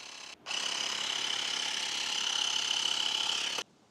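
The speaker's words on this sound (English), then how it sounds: "I'm going to insert this nozzle here between the handlebar and the grip, then pump some air in there." An air pump forces air through a nozzle wedged between a CRF300 Rally motorcycle handlebar and its grip, giving a steady close hiss that starts after a brief pause and runs for about three seconds before cutting off sharply.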